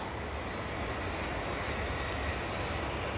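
Jet2 Boeing 757 airliner at Manchester Airport, a steady broadband engine roar with a high whine, constant and fairly loud throughout, no talking.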